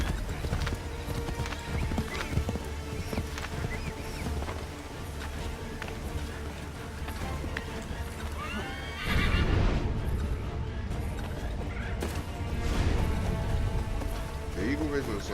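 Horse hooves clip-clop in a fast, continuous gallop, with a loud neigh partway through and a steady rushing background, like game sound effects.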